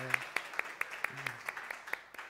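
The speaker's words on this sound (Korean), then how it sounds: "박수하겠습니다." Sparse, evenly spaced hand claps from a church congregation welcoming new members at a Sunday worship service, faint and thin, with a voice speaking over them.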